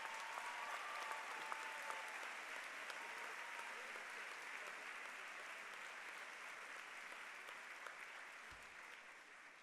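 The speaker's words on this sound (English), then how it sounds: "Please give them a big round of applause." Sustained applause from a large graduation ceremony crowd honoring faculty and staff, a steady dense wash of clapping lasting throughout at even loudness.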